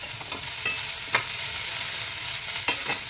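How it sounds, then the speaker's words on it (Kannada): Mutton head meat fries in a pan with a steady sizzle, while a utensil scrapes and stirs in several distinct strokes close by. "ಚೆನ್ನಾಗಿ ಫ್ರೈ ಮಾಡ್ಕೋಬೇಕು"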